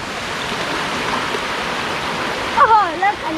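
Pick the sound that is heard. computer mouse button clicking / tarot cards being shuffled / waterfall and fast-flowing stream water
waterfall and fast-flowing stream water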